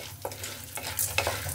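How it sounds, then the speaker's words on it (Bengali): Popcorn kernels in hot oil being stirred in a pan, a quiet sizzle with a few brief scraping strokes, close and without speech. "এখন হচ্ছে আমি দিয়ে দিচ্ছি পপকর্ন, তেলটা দিয়ে দিলাম।"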